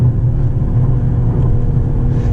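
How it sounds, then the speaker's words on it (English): Mercedes-AMG GT 53 turbocharged engine pulling hard in second gear toward a redline near 6,800 rpm, a steady, loud low drone heard from inside the cabin with no talking. "Let's accelerate. This is a second gear pull."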